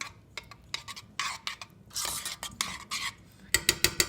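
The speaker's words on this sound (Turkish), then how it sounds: "Şöyle bir karıştırıyorum." Utensil scraping and clinking against a bowl in irregular strokes while stirring a cake mixture with butter, ending with a quick run of sharper taps, close and moderately quiet.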